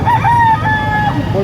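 A rooster crows once, close and loud, a single drawn-out call with wavering pitch, while someone speaks faintly in the background.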